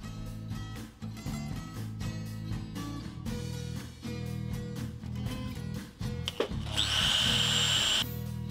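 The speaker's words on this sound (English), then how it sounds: "grab the drill that I've currently got sitting in the vise, and drill myself some holes" A power drill bores holes in carbon fiber exhaust trim, with the bit held in a vise, over a steady humming background. The drill whines loudly and continuously near the end.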